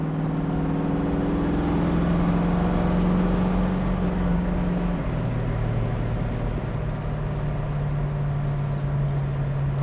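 A 1970 Ford Mustang accelerates on the road, heard from inside: a steady engine drone rises, drops as it shifts gear about halfway through, then carries on evenly at moderate volume.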